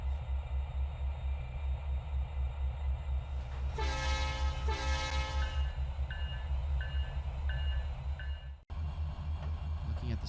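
The Eastbound Thru Train in the Trainz 2019 rail simulator rumbles steadily along the track, with two long horn blasts midway followed by a short repeating series of toots, and no talking.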